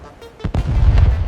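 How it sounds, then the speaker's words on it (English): Heavy naval bombardment hitting cliff-top defenses at Pointe du Hoc on D-Day, a loud deep boom followed by sustained rumbling blasts and rolling low thunder, with no talk. "a heavy naval bombardment commenced to clear the cliff-top defenses"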